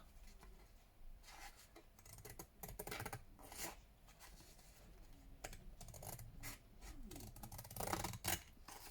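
Scissors snipping a paper wallpaper tag, a run of quick crisp cuts and rustling paper scrapes close by, with a few louder snips near the end; nobody speaks.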